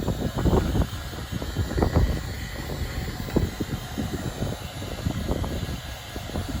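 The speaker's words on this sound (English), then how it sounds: "Now I'm using a heat gun." A heat gun on its low setting blows across a Mk6 Ford Fiesta ST150 alloy wheel, giving a steady, close airy rush with uneven low thumps and buffeting throughout.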